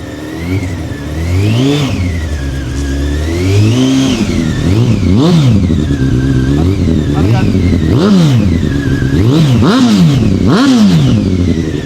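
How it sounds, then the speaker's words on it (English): A Honda motorcycle engine revs repeatedly up to about 3,000 RPM, sharp climbs and drops in pitch in a steady rhythm of blips, loud and close, with some faint background chatter. "we'll give the bikes a little bit of a rev and just go through some of the rev ranges"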